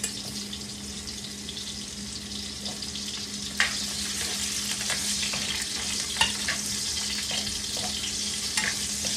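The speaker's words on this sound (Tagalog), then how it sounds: "Tapos susunod ko i-prito yung carrots." Carrots frying in a pan for chicken pochero, a steady soft sizzle with occasional sharp crackles and spatters, close and fairly quiet, no talking.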